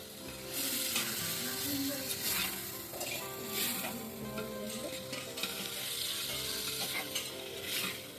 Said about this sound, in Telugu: ఫ్రెష్గా దంచుకున్న అల్లం వెల్లుల్లి పేస్ట్ ఒక 2 టేబుల్ స్పూన్లు అయితే వేసుకొని పచ్చివాసన పోయేంత వరకు వేయించుకోవాలి